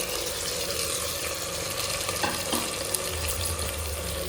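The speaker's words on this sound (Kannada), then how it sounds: "ಹಾಕ್ಕೊಂಡು ಫ್ರೈ ಮಾಡೋಣ." Ground masala paste fries in a pot with a soft, continuous sizzle, broken by occasional stirring scrapes, fairly quiet and close, with no talking.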